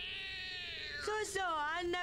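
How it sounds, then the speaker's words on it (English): Cat meowing in the Detective Conan anime: a couple of drawn-out, rising and falling tonal meows sounding close and clear over a faint background. "The meow is different."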